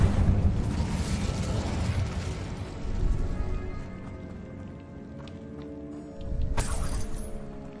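In Hogwarts Legacy, a cast Incendio fire spell erupts in a loud low roaring burst that fades, followed by rustling game effects and a second bright flare near the end; no talking over it.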